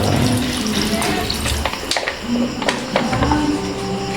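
Water pours steadily into a metal pan of coconut-milk fish stew, a continuous splashing gush with small clinks, close and fairly loud, with no voices.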